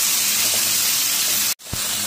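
Tomato goes into chicken and vegetables frying in a pan, giving a loud, steady hiss that is cut off by a brief drop to near-silence, then a soft thud before the sizzle resumes.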